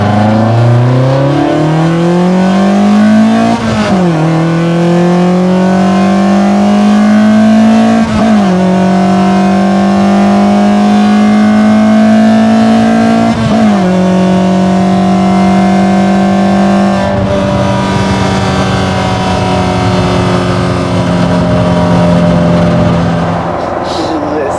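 An Opel Corsa B GSI with a C20XE engine swap, high-compression pistons, high-degree cams and individual throttle bodies revs hard and loud, climbing and dropping in repeated sweeps with a raspy intake bark.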